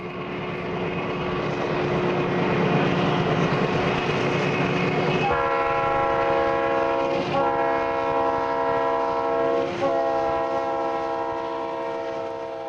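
A Santa Fe diesel freight locomotive in Warbonnet paint rumbles along the Tehachapi line in the late 1980s, then its horn sounds in three long, loud blasts over the continuous roar of the passing train.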